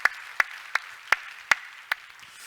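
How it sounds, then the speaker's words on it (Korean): A handful of people at a church service clap in a slow, steady rhythm, about six claps, fairly close with nothing else going on. "우리 박수 한번 축하해 줍시다"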